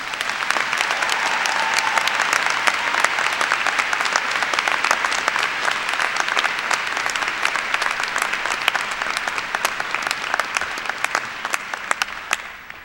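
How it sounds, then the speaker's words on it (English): Sustained applause from a commencement audience, steady dense clapping filling the whole stretch at a constant loudness without a break. "Please join me in welcoming Andrea with a round of applause."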